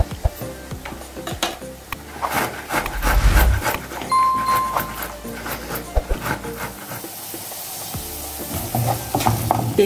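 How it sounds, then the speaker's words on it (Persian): Onions frying slowly in a pan for a tomato rice dish, with a steady close sizzle and intermittent scraping and stirring clatter from a utensil against the pan throughout. "پیازم تا آروم آروم سرخ میشه"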